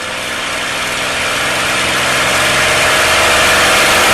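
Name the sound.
P-51 Mustang piston engine run-up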